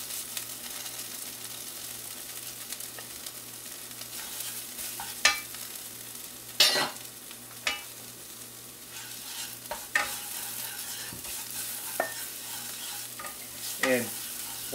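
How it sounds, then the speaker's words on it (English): Turmeric and curry powder for a Thai yellow curry fry in oil while being stirred, a soft steady sizzle broken by scattered utensil scrapes and clicks against the pan. "So we're going to add the turmeric and the curry powder now."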